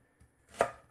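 A knife slices through leek on a cutting board in one crisp, close chop, with faint tapping just before it in a quiet kitchen.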